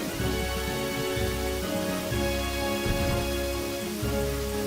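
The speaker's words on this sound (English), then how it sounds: "Can't see through this rain." Steady rain in the video game Pokemon Black, a continuous hiss of falling drops with a pulsing low rumble beneath, heard alone without talk.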